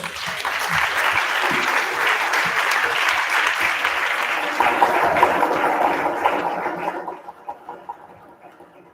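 A conference audience gives a full round of applause after a speech, dense clapping holding steady for several seconds before dwindling to scattered claps near the end.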